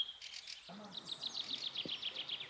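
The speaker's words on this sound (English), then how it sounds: "How much silence there is, only of the birds and the rustle of the wind." Birds sing in the Old Jewish Cemetery in Wroclaw, Poland, a rapid repeated chirping trill at moderate distance over a quiet outdoor hiss, with a few faint low rustles.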